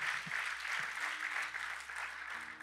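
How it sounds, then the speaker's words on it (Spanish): A church congregation applauds the Lord during a Spanish-language sermon, a brief steady burst of many hands clapping at moderate volume, filling the room without any speech over it. "Dele un aplauso al Señor"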